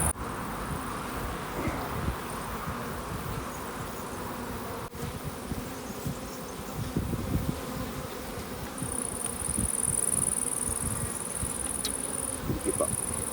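Honeybees buzz steadily around an open beehive as frames are lifted out, a continuous close hum with a faint rustle of handling and no talk.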